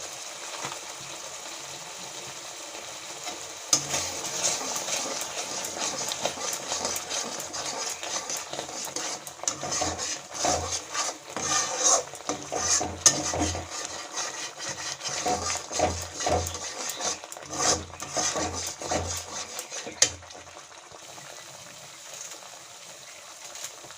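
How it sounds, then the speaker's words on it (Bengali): Cauliflower masala sizzles in a pan while being stirred and fried, a faint steady crackle with irregular scraping bursts and louder stirring strokes in the middle stretch. "মশলাটা কষে নিয়েছি, এবার লবণটা দেবো।"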